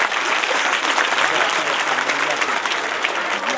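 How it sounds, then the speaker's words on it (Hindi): An audience at a school program applauds the children, a steady, dense stretch of many hands clapping at moderate volume, even from start to finish, with some voices mixed in beneath. "एक मरतबा इन तमाम बच्चों के लिए भरपूर तालियां बजाएं"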